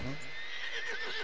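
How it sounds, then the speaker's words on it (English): A horse whinnies in a video game, a short wavering neigh close up, mixed with a voice. "This horse has been getting on my nerves."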